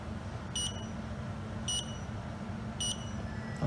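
Smart wifi garage door opener (SGC01) giving three short, high confirmation beeps spaced about a second apart over a low steady background hum.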